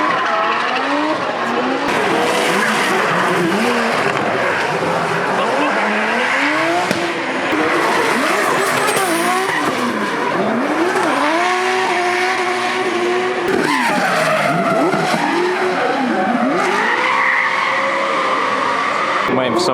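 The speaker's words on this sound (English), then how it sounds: "Here we've got Mad Mike Widett in his Lamborghini Huracan drift car." A Lamborghini Huracán drift car drifts close by at Goodwood Festival of Speed 2019, its engine screaming and revving up and down while tires squeal and skid continuously, with voices faintly beneath.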